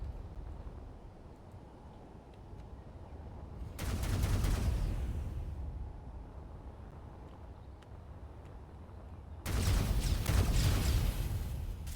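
Bursts of weapons fire from a video game, two dense volleys around four and ten seconds standing out over a steady low background rumble, with no talking.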